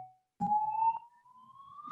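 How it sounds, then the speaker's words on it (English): Police siren passing outside, a steady rising wail that is fairly loud and clear, with a brief gap near the start and a little faint rumble underneath. "Your sirens."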